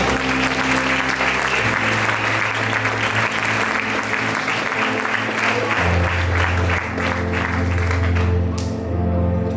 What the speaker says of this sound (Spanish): quiero que se den un aplauso por eso